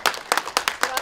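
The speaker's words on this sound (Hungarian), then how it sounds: "Tapsoljuk ki számára őket!" A small group claps for a kindergarten class at a Hungarian preschool Earth Day award ceremony, about six to seven quick bursts of near hand claps in an uneven rhythm with no voices.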